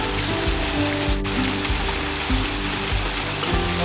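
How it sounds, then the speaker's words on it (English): Steady broadband rushing of a waterfall beside a mountain road, heard close and loud while bikepacking, with a low rhythmic rumble underneath and no talk. "Waterfall."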